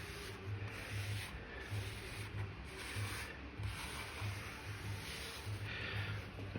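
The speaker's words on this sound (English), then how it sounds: "take your lint cleaner and just follow around" A lint cleaner brushes gently around a vinyl record, giving a soft, steady rubbing and sweeping sound with a faint repeating rhythm, close and quiet throughout.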